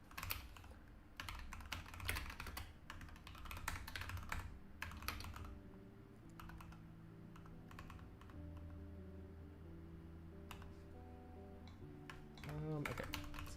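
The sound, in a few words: typing on a computer keyboard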